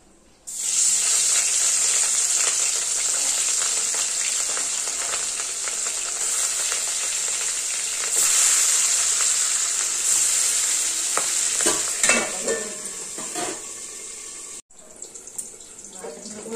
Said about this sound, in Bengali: তেল গরম হয়ে গেছে, মাছগুলো একটু ভেজে নেব।